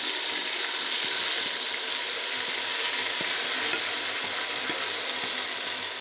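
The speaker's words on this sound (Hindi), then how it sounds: "अब मैं इसमें अपना मैरिनेट किया हुआ गोश्त शामिल करती हूँ।" Marinated meat drops into a pan of garlic and ginger and fries with a steady, close sizzle and crackle, constant and loud, with no talking.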